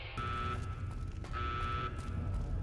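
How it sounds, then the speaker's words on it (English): A vault evacuation alarm from the game Fallout New California blares as a steady, loud electronic buzzing tone, pulsing in two long blasts with a short break between them. "What the hell was that sound? I've never heard this alarm before. The one that says evacuate?"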